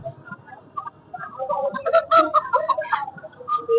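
Chickens for sale at a large rural duck-and-chicken market in Malda cluck and squawk loudly and close, in busy overlapping bursts that grow more agitated toward the end.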